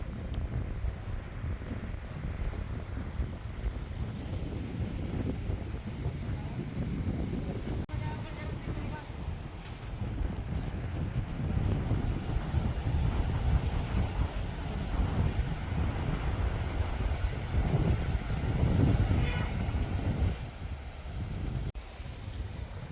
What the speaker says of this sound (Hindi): काफ़ी तेज़ हवा चल रही है यहाँ पर।